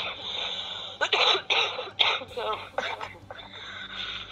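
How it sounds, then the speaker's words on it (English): A person coughing in a series of harsh, bursty coughs, several in quick succession, close to the microphone over a faint background hum. "I've had a cough for about 2 weeks"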